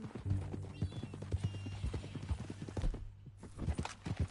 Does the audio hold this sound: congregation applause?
no